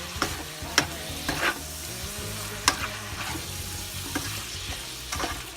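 Vegetable lo mein stirred in a hot pan, a continuous sizzle of frying noodles broken by several sharp scraping clinks of the utensil against the pan at irregular intervals.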